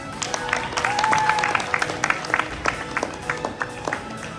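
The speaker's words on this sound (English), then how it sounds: "Let's give our chapter a round of applause." An audience at a school FBLA end-of-year awards ceremony applauds: a steady wash of many hands clapping, moderately loud, with a few voices mixed in before it thins out into scattered claps.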